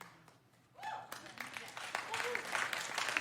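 Audience applause at a live comedy podcast recording, a scattered burst of clapping that builds midway and continues fairly quietly alongside a speaking voice.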